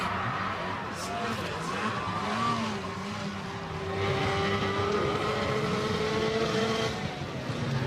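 A snowmobile engine with its throttle stuck open after a crash during a freestyle trick competition drones in a steady high whine, rising and falling slightly, with crowd noise and commentary over it.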